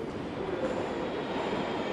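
Moscow Metro train rumbling steadily through an underground tunnel during the morning shift, a continuous close, loud rolling roar with a faint squeal running through it and no voices.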